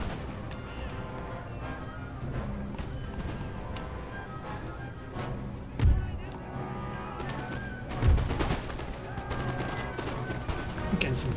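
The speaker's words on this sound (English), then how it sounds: "Shots on the Hessian line." Musket volleys crackle from massed line infantry in the Empire: Total War strategy game, a dense continuous rattle of shots with two heavier cracks standing out, under a bed of battle noise.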